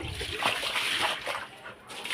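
Water splashing and sloshing while a dog's room is being cleaned, a fairly loud wet spatter running steadily through the moment with a brief dip near the end.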